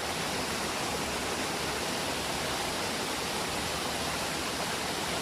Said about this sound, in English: it's actually a waterfall, right? The river shooting down